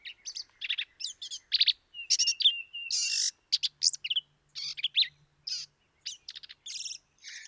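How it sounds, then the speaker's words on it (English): Black-capped vireo calling in Texas Hill Country, a clear recorded bird with a varied, rapid run of high chirps, buzzy notes and short phrases split by brief pauses, close and alone. "you can also hear the call of the black-capped vireo"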